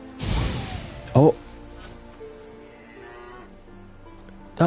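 A small cow in The Witcher 3 video game gives a few lowing moos amid game ambience, with short sharp thuds or footsteps breaking in and a brief bit of talk near the start.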